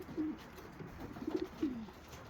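Young racing pigeons cooing softly near a loft, several short throaty coos in uneven bursts over a quiet background.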